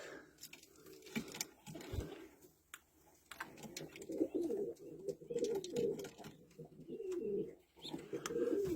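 Soft, low cooing of white Istanbul pigeons and their young in repeated bursts, close by, with occasional rustling and small chirps between the calls.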